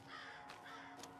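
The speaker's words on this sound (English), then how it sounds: "Birds." Two crow caws ring out a moment apart in the video game Alan Wake 2, clear and fairly close, over a faint steady hum.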